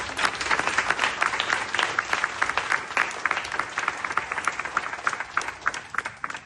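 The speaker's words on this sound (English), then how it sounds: "Let's give a round of applause for the progress" An audience at a charity walk anniversary celebration breaks into lively applause, many hands clapping in a dense, crackling burst that stays strong throughout before thinning slightly near the end.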